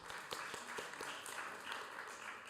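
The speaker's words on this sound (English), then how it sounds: "Let's give Ms. Sophie York another round of applause." Audience applause at a peace conference, a fairly faint, steady wash of many hands clapping with a few distinct claps near the start, continuing evenly for a couple of seconds.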